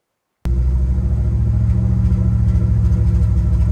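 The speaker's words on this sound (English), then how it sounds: "Let me give you an example of what that sounds like." A car engine with a cylinder misfire fires up after a brief silence and settles into a loud, steady idle, its deep rumble close and continuous with no voices.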